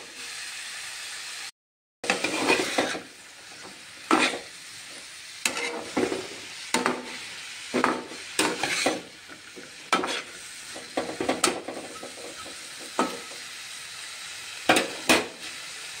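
Vegetables for a dry fish curry are stirred in a hot pan, a steady frying sizzle broken by repeated scraping strokes of a spatula, close and fairly loud, with no talking.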